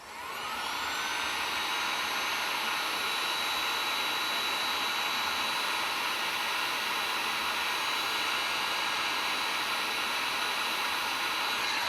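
A heat gun blows continuously on heat-shrink sleeving over cables, a steady loud whooshing hiss with a motor whine that ramps up in the first second and then holds constant and close, with no talking.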